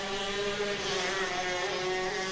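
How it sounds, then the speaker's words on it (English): A 125 shifter go-kart screams around a track, its high-pitched two-stroke engine droning steadily and loudly without a break. "We got a 125 shifter running out there. It's a little bit loud"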